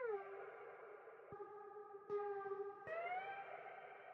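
A piano sample slowed to half speed and run through a parametric EQ that removes the highs and deep lows, giving sustained, thin, gliding tones with a few sharp chord changes, moderately quiet and alone.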